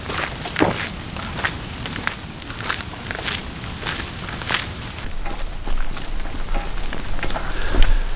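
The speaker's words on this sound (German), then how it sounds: "Wahrscheinlich hört man das jetzt noch, es regnet." Rain falls in a forest at night as a steady, dense patter with scattered crackling drops and sharper close taps. It grows slightly heavier toward the end, with no voices present.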